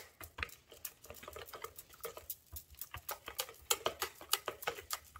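Cookie dough being mixed with powdered sugar in a bowl, a steady rapid patter of scraping and stirring strokes, close and fairly even, with no talk over it.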